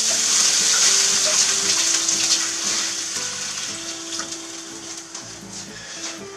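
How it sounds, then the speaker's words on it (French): Water poured into a hot frying pan sizzles and gushes up close, loud at first and then settling into a softer steady bubbling hiss. "Je mets l'eau dans la poêle."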